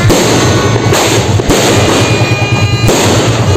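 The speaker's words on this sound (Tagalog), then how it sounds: "Ang ganda ng fireworks." New Year fireworks bursting in the sky, a loud, dense and continuous crackle with rapid booms and thumps close by and no pauses, and no speech.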